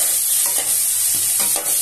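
Pumpkin sautéed with tomatoes in a pan for a kaddu sabzi, a loud close hissing sizzle with a few spatula stirs and scrapes, no talking.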